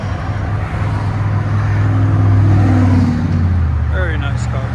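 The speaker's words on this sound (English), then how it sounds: "Audi S6 V8 twin turbo." A 2013 Audi S6 with a 4.0L twin-turbo V8 and muffler delete revs up, its deep exhaust note swelling to a loud peak mid-clip and then easing off, heard close.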